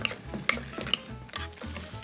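A spoon stirs buttermilk mashed potatoes in a pot, giving soft, wet, rhythmic scraping strokes with a few light clinks against the metal, close and quiet, with no talking.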